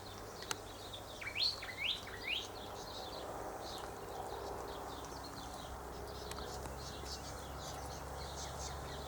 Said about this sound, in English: How many cockatoos are there?